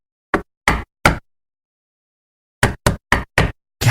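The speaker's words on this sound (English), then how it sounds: "I gotta get the door." Knocking on a door in two bursts: three spaced knocks, a pause of about a second and a half, then a quicker run of five close, loud raps, with no talking.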